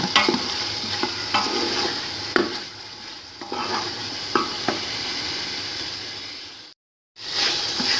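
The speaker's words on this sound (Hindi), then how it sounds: "मिक्स करेंगे इसको अच्छी तरह से" Green masala yakhni pulao stirred in a pan, with a steady sizzle of frying broken by repeated spoon scrapes and stirs, close and alone, cutting out briefly near the end.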